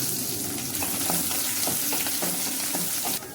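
Cumin seeds and finely crushed garlic fry in hot oil with a steady, close sizzle and a few scrapes of stirring, ending abruptly near the close.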